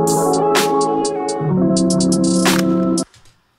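A lead pattern layered with a chopped chord sample from a beat plays loud and close, the chord shifting lower midway with bright hi-hat ticks above, then cutting off sharply.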